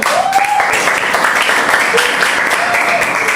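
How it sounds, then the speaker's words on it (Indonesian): Applause from a school audience at a student presentation, a steady, fairly loud wash of clapping with some voices and cheering mixed in throughout. "Oke, tepuk tangan untuk kita semua."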